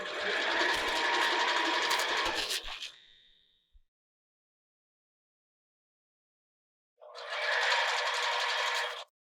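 A sewing machine stitches a sports bra band in two bursts: a steady rapid whirr of close stitching that slows and stops, a silent pause, then a second run of stitching.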